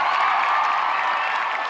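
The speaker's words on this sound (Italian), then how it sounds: "Fate un applauso per lui, Catania." A concert audience in Catania applauds, a dense and even wash of clapping that holds steady and loud without a break.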